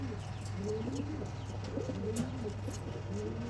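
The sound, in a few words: pigeons cooing at a pigeon sale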